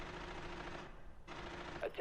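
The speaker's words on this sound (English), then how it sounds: "There you can hear the gunfire now being exchanged between both teams." Gunfire exchanged between two teams in a Rainbow Six Siege esports match, dense rapid automatic bursts blurring together under faint crowd noise, then a brief gap and more shots.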